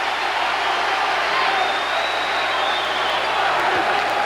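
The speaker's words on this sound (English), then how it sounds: "Just listen to the crowd." Arena crowd at a 1989 Atlantic 10 Tournament final basketball game between Rutgers and Penn State, a loud continuous roar of cheering and applause filling the whole stretch without a break.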